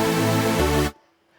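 A bright, buzzy first-oscillator tone from the Vital synthesizer holds steady, dips slightly in pitch partway, then cuts off abruptly into silence.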